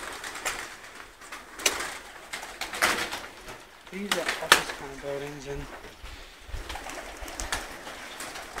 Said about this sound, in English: now home to the many pigeons of Auckland and their families